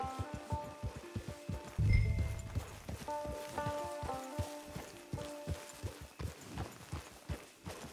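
Horse hooves clip-clop in a steady walking rhythm, close by, with a brief heavier thump partway through, in the video game Red Dead Redemption 2.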